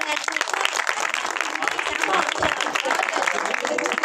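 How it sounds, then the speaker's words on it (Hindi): Audience applause for a children's Christmas program at a church ministry event, a dense steady wash of many hands clapping that fills the whole stretch, with cheering voices mixed in. "बच्चों के लिए तालियां तो बजाएं।"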